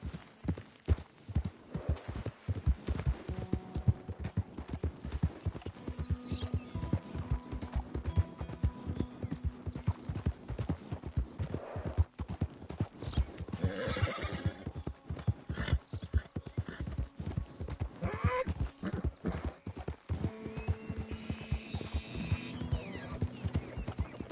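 A horse gallops in Red Dead Redemption 2, its hooves clip-clopping in a fast, steady rhythm throughout, with occasional whinnies and faint game ambience behind.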